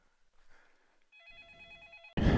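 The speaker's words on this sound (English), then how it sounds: "I got a phone call." A telephone rings with a bright electronic warble that starts after faint rustling, builds over about a second, and is cut off by a loud sudden clatter at the end.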